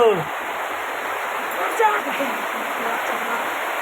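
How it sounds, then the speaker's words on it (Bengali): Heavy rain pours onto a tin roof in a steady, dense patter and hiss that holds without a break, with a brief voice near the start. "উপরে টিনের চালে ডক ডক করে বৃষ্টি পড়ছে"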